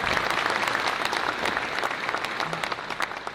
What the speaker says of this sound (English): So another round of applause for Wilma Daniel as well.